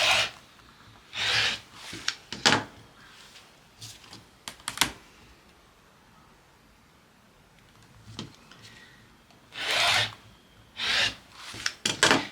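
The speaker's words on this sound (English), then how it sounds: "So I'm going to cut those 2 strips." Strips of quilting fabric are cut in short scraping bursts, near and fairly loud, separated by quiet pauses and a few light handling sounds.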